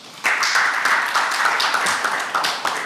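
An audience at an ASEAN policy forum on the Mekong subregion claps together in a brisk, even round of applause after a speaker finishes.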